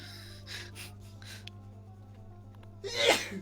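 Quiet room hum and soft breathy sounds, then one sudden, loud sneeze right up close at the end.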